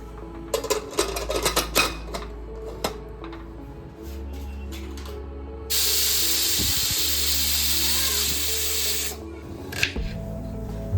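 Steam hissing loudly from a pressure cooker holding seven or eight potatoes on a home kitchen stove, a steady broad rush lasting several seconds amid earlier clinks of pots and utensils, with no talk.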